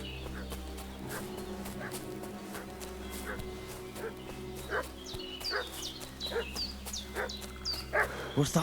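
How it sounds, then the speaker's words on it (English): A dog barks and fusses repeatedly in Kingdom Come Deliverance 2, sharp yelps coming in bursts that grow louder and more frequent toward the end over a low ambient hum, with birds faintly in the background. "What's that dog making such a fuss about?"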